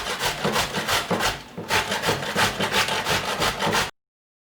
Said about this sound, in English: so whenever you're grating, you have to be careful, okay, so you don't grate your hands